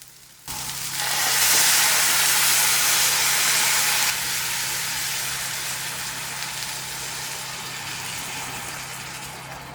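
A curry with coconut milk, Kashmiri red chili powder and salt hisses and bubbles in a pot with a loud, steady seething that surges early and then settles to a slightly softer, continuous simmer.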